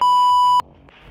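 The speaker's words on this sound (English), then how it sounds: "And then my alarm went off." A loud electronic alarm beep holds a steady high tone for about half a second, then cuts off abruptly, leaving quiet background noise.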